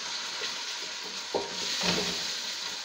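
Grated tomatoes hit a pan of fried onions with a bright, steady sizzle, a brief stir or clatter cutting through the hiss partway in.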